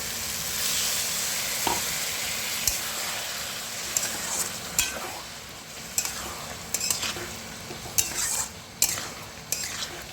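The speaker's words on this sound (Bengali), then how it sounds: "জল দিয়ে দিয়ে ভালো করে কষাবো" A curry is braised in a pan with splashes of water, giving a steady soft sizzle under repeated spatula scrapes and metallic clinks that grow more frequent and sharper toward the end.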